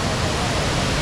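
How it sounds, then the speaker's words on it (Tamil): Heavy rushing water at Athirapally waterfall in Kerala, a dense, steady roar filling the whole clip without break, close and loud, with no clear voices standing out. "இன்னும் தண்ணி பயங்கரமாக வருதுங்க"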